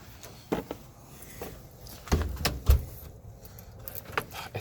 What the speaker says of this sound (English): It's so nice not having to slam this door.